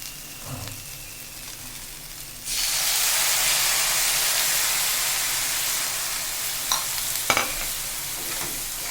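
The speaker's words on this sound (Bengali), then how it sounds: "এবার আমার পরিমাণ মতো জল ছেড়ে দেবো" Water splashes into spiced masala frying in a pan for a taro stolon and prawn curry, setting off a loud, sustained hissing sizzle after a quieter start, with a few utensil knocks near the end.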